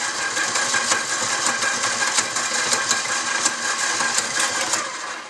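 An electric mixer whirs continuously, blending greasy bacon dog-treat dough with flour, a steady loud motor drone with faint rhythmic fluctuations throughout.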